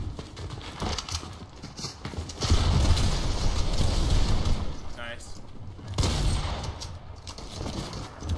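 Sniper shots crack out in a video game, with loud bursts around three and six seconds standing out against steady game noise and faint talk.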